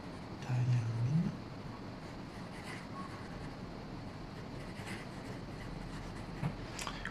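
A flex nib fountain pen writing with Diamine blue black ink gives a soft, steady scratch across paper, faint under a low background hum.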